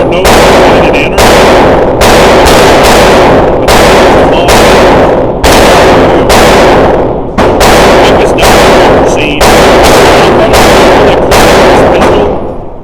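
Rapid strings of close, loud gunshots from a Taurus TX22 competition pistol, .22 caliber, fired at a steady quick pace in several bursts with brief pauses between them, each crack sharp and dominant over any background.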